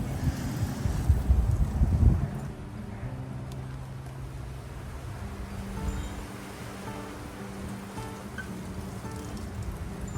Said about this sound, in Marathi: आता जोरात येतो वारा